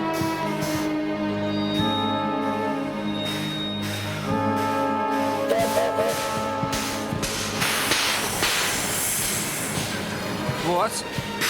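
A railway carriage on a train with a steady low rumble and humming tones, a hiss of steam, and a brief squeal near the end, with voices talking over it.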